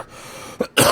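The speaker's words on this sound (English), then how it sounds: "Like I said, I have a cough." A single short, harsh human cough with a small throat catch just before it, close and loud, alone in a quiet room.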